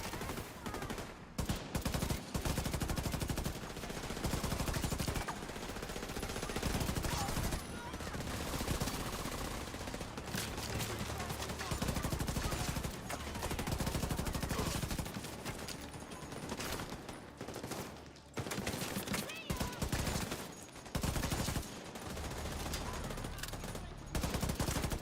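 Loud, sustained automatic gunfire in The Division 2 rattles in dense bursts, broken by short pauses. Several weapons overlap near and far for the whole stretch, with faint talk buried underneath.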